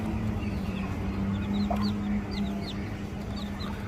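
A hen clucks softly among the thin, high peeping of day-old chicks, with a steady low background hum throughout.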